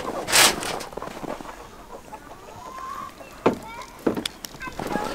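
Homestead chickens being fed whole corn cluck in short, scattered bursts at moderate distance, with pigs eating nearby, intermittent louder noises and other farmyard sounds around them.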